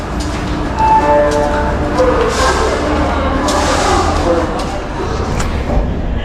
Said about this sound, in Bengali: আমাদের ট্রেন ছেড়ে দিচ্ছে বোলপুর স্টেশন থেকে